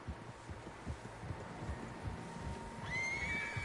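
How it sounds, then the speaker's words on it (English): Horses neigh and whinny in a Red Dead Redemption 2 outdoor scene, several animals calling over a low rumbling bed, with a louder, higher whinny rising near the end. "Horses, quite a few of them."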